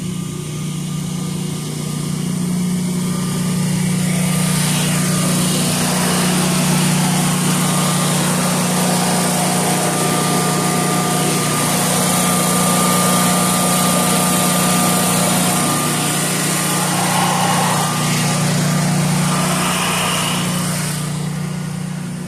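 A 24kW standby generator drones steadily at a constant pitch, close and loud, with a steady hum and no voices throughout.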